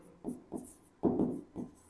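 Marker strokes on a board during a Class 12 maths lesson on logarithmic differentiation, four soft, close scratching bursts in an uneven rhythm, the third longest.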